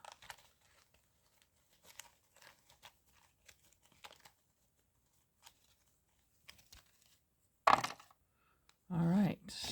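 Angel cards shuffled and handled by hand, with soft scattered card flicks and rustles, then a sharper burst of cards slipping and falling out of the deck near the end, faint and close.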